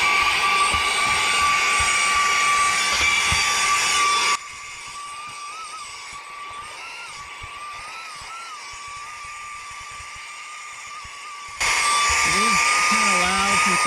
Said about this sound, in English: Since it is a vacuum, and it's for its size, it's got pretty good power.